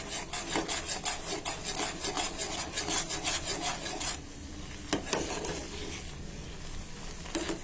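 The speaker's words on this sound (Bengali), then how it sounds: "সেরেলাকটা ঘন হয়ে এসেছে প্রায়, নাড়তে হবে ভালো করে, তা না হলে নিচে লেগে যাবে।" Cerelac baby cereal thickens in a pot while a spoon scrapes and stirs it in quick, even strokes for about four seconds, followed by quieter handling with a couple of light knocks.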